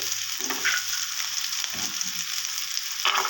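Peeled garlic cloves and onions sauté in a pan for a thoduvalai chutney, a steady sizzling hiss broken by a few scraping stirs of the spatula.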